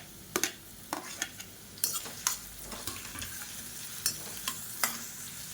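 Onion, green chilli and chopped garlic frying in a pan for sambar, a steady close sizzle broken by repeated sharp scrapes and taps of a spoon stirring against the metal.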